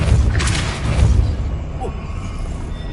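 Depulso force spell cast in Hogwarts Legacy, a close whooshing blast with a low thump near the start that fades into a trailing rumble and soft swish.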